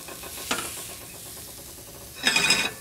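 Mahi mahi fillet cooks on a grill with a faint, steady sizzle, broken by two louder bursts of hissing and scraping, one short and one longer near the end.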